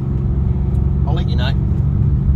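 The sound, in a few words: supercharged VE R8 car engine running on a dyno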